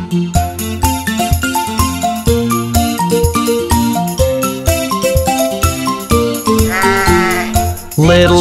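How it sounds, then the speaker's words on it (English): A cartoon sheep bleats in a nursery rhyme over bouncy tonal music, with a short wavering bleat near the end of the passage. "Little sheep, what are you doing?"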